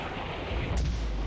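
A fireball explosion goes off in the video game The Saboteur as a single deep boom with a rumbling tail, loud and close.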